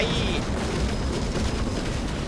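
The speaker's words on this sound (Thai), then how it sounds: "ระเบิดเป็นลูกโซ่ทันที" Artillery sets off chain explosions in the war strategy game Call to Arms: Scorched Earth, making a dense continuous rumble of overlapping booms at steady loudness.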